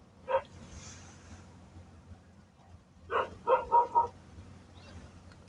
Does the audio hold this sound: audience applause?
no